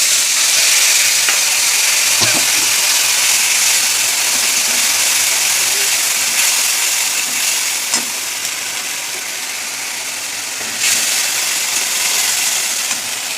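Onion, tomato paste, garlic, ginger and whole spices frying in a pan, a loud continuous sizzle heard close up with a few sharp stirring clicks along the way.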